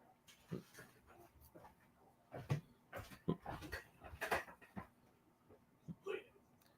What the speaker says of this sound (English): Doggy's getting restless.